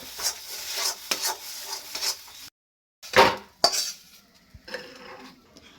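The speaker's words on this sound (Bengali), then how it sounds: "আরেকবার ভালো করে নাড়িয়ে নিচ্ছি" Vegetables stirred in a pan while cooking bharta, a spoon scraping and clinking against the metal in busy bursts with a faint sizzle, a brief pause midway, then a few sharper strokes.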